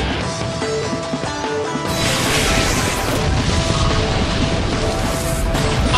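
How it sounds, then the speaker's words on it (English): A loud, sustained crashing blast from the Explosion move in the Pokémon Battle Revolution video game, swelling to a brighter burst partway through over dense game sound. "Annihilated by explosion!"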